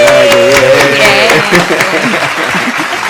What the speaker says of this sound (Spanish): Un aplauso para Ana Marí también.